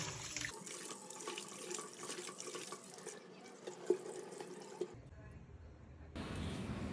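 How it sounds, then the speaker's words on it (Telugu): Half a kilogram of small chicken pieces is rinsed under a running kitchen tap, the steady flow of water splashing into a sink for several seconds before the sound briefly cuts off and resumes. "ఈ చికెన్ని ఒకసారి మామూలుగా వాటర్తో కడిగేసుకొని"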